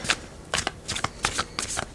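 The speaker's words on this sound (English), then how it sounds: "I'm going to shuffle until we get one minor" Tarot cards riffle and shuffle in several quick, close bursts during a reading, crisp papery flutters separated by brief pauses, with no talking over them.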